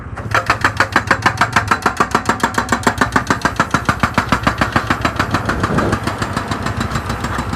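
A vehicle engine runs steadily at an excavation site, its loud, rapid chugging pulses close and continuous throughout with no talk over it.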